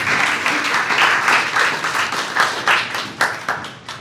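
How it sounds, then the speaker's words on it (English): Crowd at a rural summit fundraiser in an arts center applauding a state representative, a full round of clapping that thins into scattered, separate claps as it fades out. "another round of applause for Representative Pierce for joining us today"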